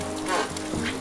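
Rain falls steadily beside the veranda of a mountain plateau house in Bolu, Turkey, in May, a brief, close, even hiss.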